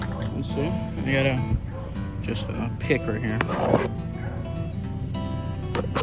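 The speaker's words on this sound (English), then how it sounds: "Sorry if you can hear my dog in the background." A dog barks and whimpers in the background at a few scattered moments, moderately near, while a person talks over it while unpacking parts.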